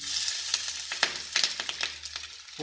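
Garlic sizzles in a hot pan with curry leaves, crackling and spitting in short bursts over a low steady hum, close and moderately loud with no voices.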